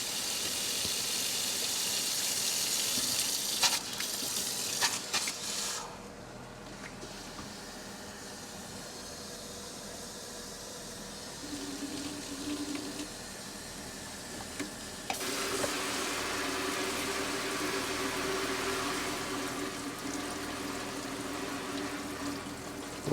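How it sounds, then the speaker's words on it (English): Steady broadband rush of water running from a tap in an RV after decalcifying its tankless water heater, continuous throughout, with a brief dip midway and a brighter, stronger flow in the latter half. "I turn the water on again."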